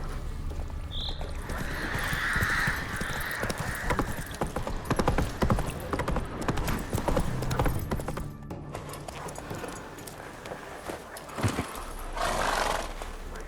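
The horse Roach gallops in The Witcher 3, its hoofbeats drumming in a fast, steady clip-clop close by, with a brief neigh near the start and rushing wind or ambience beneath.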